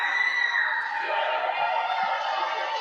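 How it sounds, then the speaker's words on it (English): Wrestling crowd at an ASWA Rebirth 2021 show cheering for the hometown hero after a suicide dive, a dense, steady roar of voices with whoops and shouts filling the whole stretch at constant loudness. "The crowd is fully behind the hometown hero."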